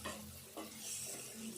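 Green chillies, onion and fenugreek leaves sizzle softly in a pan while a spoon stirs them, with short scraping strokes over a faint continuous frying hiss close by.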